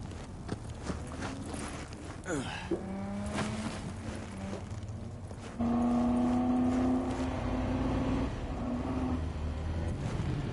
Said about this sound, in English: Gotta love traffic in Night City.